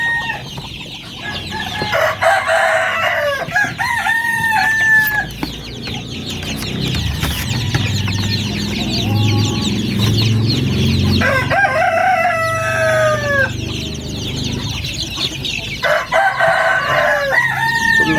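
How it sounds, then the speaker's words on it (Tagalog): Hungry chicks peep busily at feeding time, with repeated high, sweeping calls in bursts over a low, rumbling, muffled background of nearby fowl and clucking. "Ngayon pa lang po tayo magpapakain ang ating mga sisiw. Gutom na sila."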